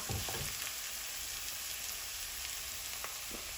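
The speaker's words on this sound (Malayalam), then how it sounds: "സ്പ്രിംഗ് ഒനിയൻ്റെ ബൾബും കൂടെ ഇതിനകത്തേക്ക് ചേർത്ത് കൊടുക്കുക ഇതെല്ലാം ഒന്ന് വഴണ്ട് വിട്ടിട്ട് കേട്ടോ" Spring onion bulbs and chicken sautéing in a pan for samosa filling, a soft low sizzle with a couple of brief stirring knocks, faint and steady throughout.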